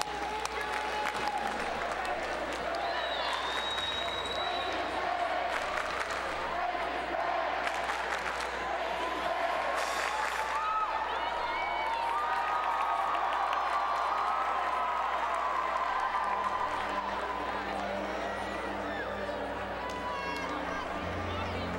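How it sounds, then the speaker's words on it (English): Crowd in a school gym at a girls' high school volleyball championship applauds and cheers for the band, steady clapping under a public-address announcer, with crowd noise throughout. "Applause for the band from St."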